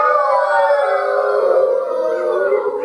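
A crowd of storytelling listeners imitates a wolf, voices rising together into a long sustained howl that wavers and slowly slides down in pitch, loud and close, lasting about three seconds.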